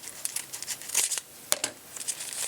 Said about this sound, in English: If I can get this bag open.